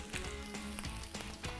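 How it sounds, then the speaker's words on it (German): Steady hiss of chili sizzling in a hot frying pan, with a few soft scraping stirs, close by. "Und Chili auch in Pfanne geben."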